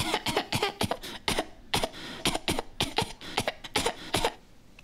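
Repeated harsh coughing, around a dozen sharp bursts in uneven clusters, close and fairly loud, with brief gaps between fits and no speech.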